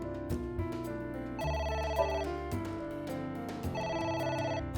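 In AI: The Somnium Files, a game phone keeps ringing: two bright, buzzing ring bursts, each about a second long, stand out clearly above continuous background music.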